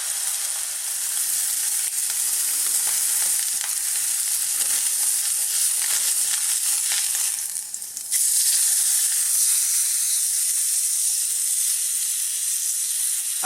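A tuna steak sears in a hot pan, giving a loud, steady close sizzle with a brief dip partway through before the hiss returns at full strength.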